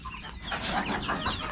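Turkeys and other poultry clucking and calling over steady background noise, several birds making overlapping calls at moderate distance.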